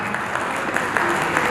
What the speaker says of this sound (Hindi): आचार्य जी के लिए जोरदार ताली